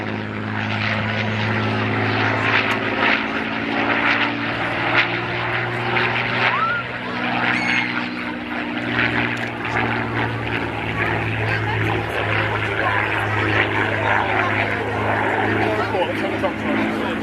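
A Photo Reconnaissance Spitfire Mk XI flies a display at the RAF Cosford Air Show, its piston engine droning steadily and loudly as it passes, while a commentator talks over it throughout.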